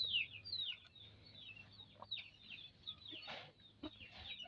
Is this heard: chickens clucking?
yes